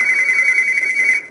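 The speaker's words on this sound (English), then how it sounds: "Oh, phone! I hate you, phone." A phone rings with a loud, steady electronic tone that holds for over a second and then cuts off, close and alone.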